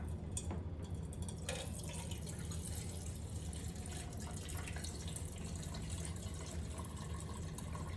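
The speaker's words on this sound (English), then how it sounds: "So all I'm doing is pouring my wax out." Melted candle wax pours from a wax warmer into a container on a scale with a quiet, steady trickle. It stays faint and close throughout with light background hiss and no voices.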